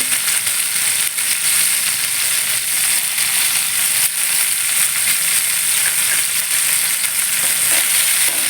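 Drumstick pieces cook in hot oil in a pan, giving a loud, dense, steady sizzle that runs unbroken throughout with faint crackles and no talking.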